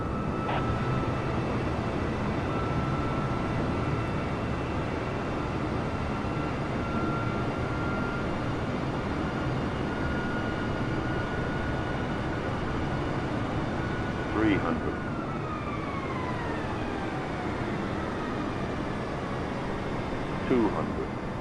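Airliner jet engines spooled down to idle on the landing approach, a steady broad roar with a faint whine, continuous and loud throughout with no break.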